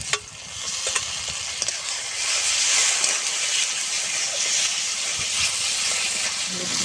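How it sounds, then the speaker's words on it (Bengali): Dried chilli, cumin and ginger-garlic paste frying in hot oil give a steady, close sizzling hiss with light stirring clicks scattered throughout. "শুকনো লঙ্কা, জিরে, আদা রসুন বাটাটা আমি দিয়ে দেবো।"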